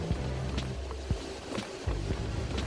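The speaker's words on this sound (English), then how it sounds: "we're just barely running these engines a cruise" Twin Yamaha 150 outboards push a 2003 Wellcraft 250 center console along at an easy cruise near 3,300 to 3,500 RPM. Steady low engine drone blends with rushing water and wind across the hull, with brief thumps as it runs.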